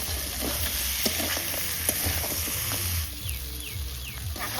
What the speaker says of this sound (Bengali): ভেজে রাখা কাঁকড়া আর আলু দিয়ে দিচ্ছি।